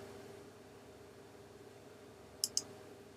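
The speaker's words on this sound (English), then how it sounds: "I'm going to click OK." Two quick, crisp mouse clicks on a Classic Macintosh come in close succession near the end, sharp and near against a faint steady background hiss.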